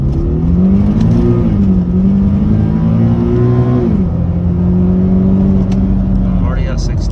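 A 2013-era Infiniti G37 car accelerates hard from inside the cabin, its engine note rising steadily in pitch, then dropping briefly at a shift and climbing again, loud and continuous.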